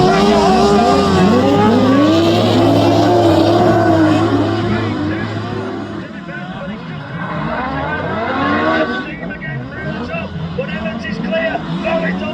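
Race cars roar around a track, with several engines rising and falling as they pass close by, under continuous commentary that overlaps the engine noise.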